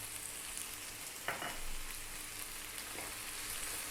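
Peas and other vegetables with a little dried mint sizzle steadily in a pan over medium heat, a soft continuous frying hiss with a couple of faint stirring scrapes.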